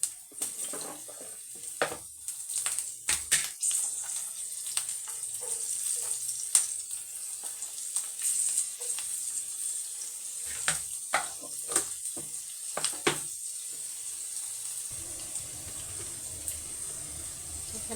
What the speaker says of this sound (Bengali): সিম, ফুলকপি, আলু আর পেঁয়াজের একটা যে কলি থাকে, পেঁয়াজ কলি, সেটা, এই তিনটা দিয়ে আমি ভাজি করছি।